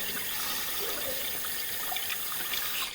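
Water runs steadily through a residential sewer line during a lantern camera inspection, a constant hollow rushing wash that stays at an even level throughout with no voices.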